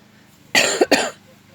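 A woman coughs twice in quick succession while sick, close and fairly loud over a faint background hum.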